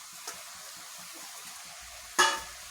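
Washed mung dal goes into a hot pan with a soft, steady sizzle and light stirring scrapes, then a sharp splashy crackle near the end, close by and with no talking.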